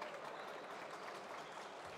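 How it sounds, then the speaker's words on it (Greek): Crowd applause fills a basketball arena at an Elite League game in Greece as a player is cheered after a foul call, steady and dense for the whole two seconds with no pause. "Χειροκροτείται ο Κοντούδης."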